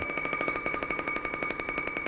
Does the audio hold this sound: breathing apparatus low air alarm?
yes